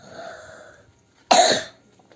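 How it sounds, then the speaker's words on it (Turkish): A sick man gives one loud, harsh cough in a burst, following a stretch of quieter background sound. "Öksürmemin kusuruna bakmayın hastayım."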